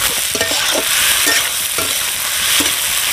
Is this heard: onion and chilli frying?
yes